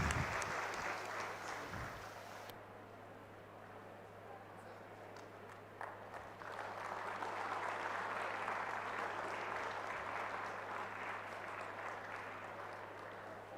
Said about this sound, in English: can we have a huge applause for the Vice President of our university